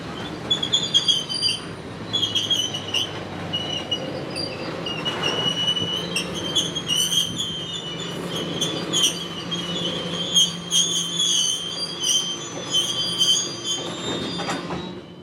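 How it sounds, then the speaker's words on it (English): A northbound CSX tanker freight train rolls to a stop at a signal on a single-track line, with steady rumbling railcars and persistent high-pitched wheel squeal screeching throughout, fairly distant and continuous. "the northbound tanker train pulls up to a stop at CP 45"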